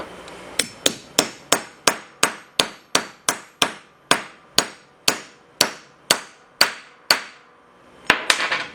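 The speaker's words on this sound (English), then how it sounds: "I like just a light hammer tap to get it in there." A light hammer taps an aluminum driver to seat a part in a Willys Dana 18 transfer case, with about fifteen crisp metallic strikes in a steady, evenly spaced rhythm, close and clear, then a final quick double tap.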